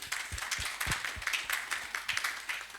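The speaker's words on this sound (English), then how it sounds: "Shall we clap for Aglo?" Brief applause from a small gathered audience, several distinct claps rising and spreading into scattered clapping, moderately near and fairly quiet, with no talking over it.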